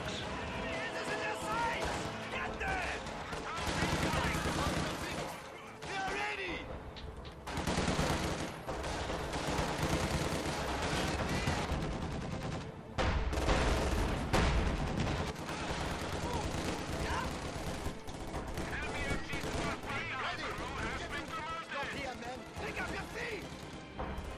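Gunfire from a StuG assault gun attacking a forward building in a video game, dense bursts and booms running continuously under game sounds and a narrating voice.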